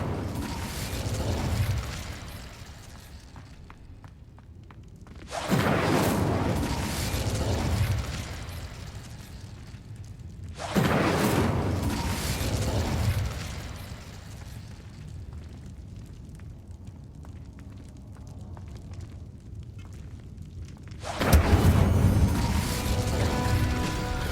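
Incendio fire spell cast in Hogwarts Legacy, heard as four separate loud bursts of roaring flame, each a few seconds long with a dying crackle, separated by quieter ambient gaps.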